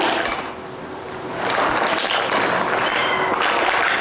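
Mussel shells are stirred in a pan while frying, giving a loud, continuous clattering and sizzling rattle that grows busier partway through.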